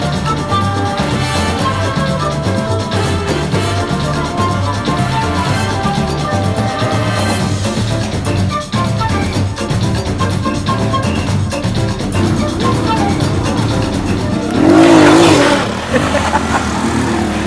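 A motorcycle engine strains loudly uphill through a Rio favela, a steady, harsh drone that swells into a louder surge near the end, with street noise mixed in.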